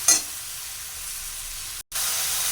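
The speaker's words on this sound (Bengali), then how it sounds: "পেঁয়াজটা লঙ্কা টঙ্কা দিয়ে সব কিছু দিয়ে একটু পেঁয়াজটা ভাজা ভাজা করলাম" Onions fry with chili in a pan, a steady bright sizzle and hiss heard alone, with a brief clatter at the start and a short break near the end.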